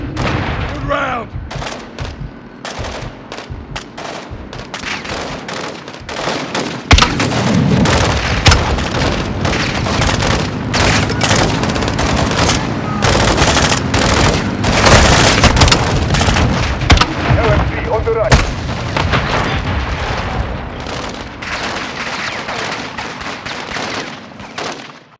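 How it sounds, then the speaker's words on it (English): Grenade launcher rounds fire and hit their target amid a combat firefight, with loud repeated booms and crackling gunfire bursts over a continuous battle din, with voices shouting through it. "Gaz, hit with the launcher! Copy! I'm on it! Direct hit! Good round!"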